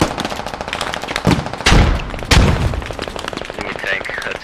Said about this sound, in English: Damn it, automatic gunfire.